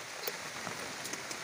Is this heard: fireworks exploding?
no